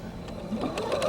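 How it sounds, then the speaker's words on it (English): A sewing machine stitching fabric runs in a short, steady mechanical whir with a quick rising motor tone, heard close and alone. "I like to sew with my seams on top"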